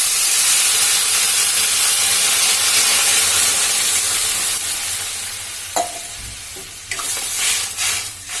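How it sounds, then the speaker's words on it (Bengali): Water poured into a pan of spiced taro (kochu) curry frying in masala, a strong hissing sizzle and steam that fades over several seconds, then a few clanks and stirring scrapes, no speech. "এবার দিয়ে দেবো জল।"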